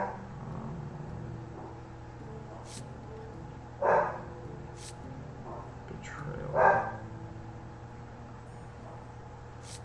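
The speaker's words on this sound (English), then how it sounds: "Sorry if you hear my dog barking." A dog barks indoors twice, a few seconds apart, fairly faint and distant, over low room hum and someone speaking briefly.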